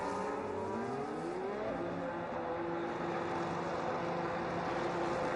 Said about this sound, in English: There comes the Haas down the main straight